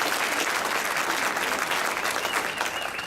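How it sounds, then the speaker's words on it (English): Applause at a Rotaract club gathering, a full, steady burst of clapping from the audience at close range, sustained without voices. "Can we please give Bunny a round of applause because she does a great job."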